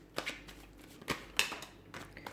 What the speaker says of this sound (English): we'll give the cards a shuffle